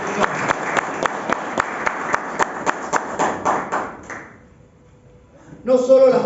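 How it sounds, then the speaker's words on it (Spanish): Church congregation applause, a run of brisk, evenly spaced claps that fades out, followed by a voice starting to speak. "Denle un aplauso a la palabra"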